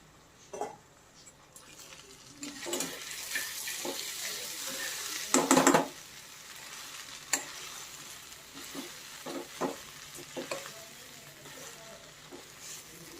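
Washed mixed vegetables for Bhogi bhaji stirred in a pan, with soft hiss and intermittent scraping and clanks, including a brief louder metallic rattle midway; quiet talk is heard at times.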